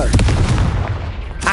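A Confringo blasting spell in Hogwarts Legacy goes off as a loud, close burst of booming explosions that rumbles briefly before dying away, with a voice faintly beneath.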